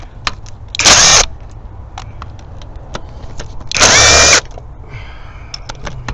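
A pneumatic impact gun removes 11 mm valve cover bolts on a Jeep 4.0L engine in two loud, close bursts of about a second each. Faint clicks and shop noise fill the gaps between bursts.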